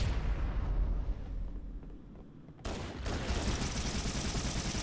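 Explosions and gunfire in the Halo remake on heroic difficulty, loud close blasts and rattling fire that drop away briefly and then surge back with a sharp burst, with no voices.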